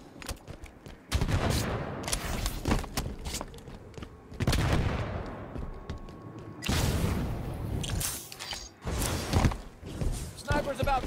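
Heavy shots and explosive booms in the Halo 5: Guardians video game, arriving in several loud bursts separated by short lulls, with voice callouts heard between them.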